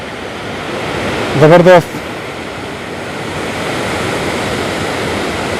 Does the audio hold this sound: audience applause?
no